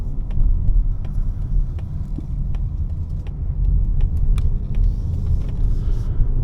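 Steady engine and road rumble inside a 2026 Mazda CX-5 GT on the move in Sherwood Park, a constant low drone heard from the cabin with light rattles and no talk.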